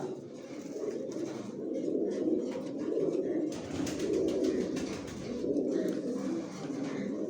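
Imported racing pigeons in a pigeon loft coo together in low, soft, overlapping rolls that swell and fade in waves, close by and continuous, with no talking.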